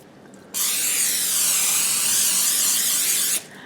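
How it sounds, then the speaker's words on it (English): Nonstick cooking spray hissing into a 9x13 baking pan in a one steady, loud burst of about three seconds, close by, with quiet room tone before and after. "I'm just going to spray it with nonstick cooking spray"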